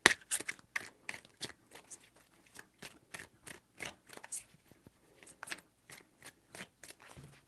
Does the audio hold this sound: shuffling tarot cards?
yes